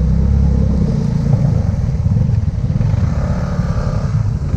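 A carbureted motorcycle engine labours and revs steadily while crossing a shallow rocky river, a loud close rumble that holds throughout with slight rises and dips, no voices.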